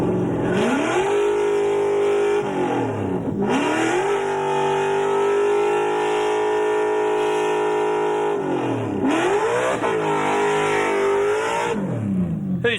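A Ford Mustang with a supercharged Windsor V8 revs hard at the Summernats car festival, loud and close, holding high steady revs, dropping briefly twice and climbing back, with no talk over it.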